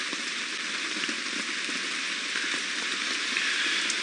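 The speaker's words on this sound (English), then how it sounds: "It seems like the rain is just slowing down a little bit, which is nice." Steady rain falling on a safari drive in the African bush, a dense, even hiss of drops that holds at a constant level and eases only slightly over the few seconds, with no voices.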